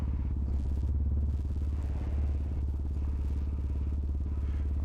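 Honda CRF250L Rally motorcycle fitted with a MotoX exhaust, silencer insert removed, pulling away: a loud, steady, throaty engine rumble close by, continuous throughout with no talking.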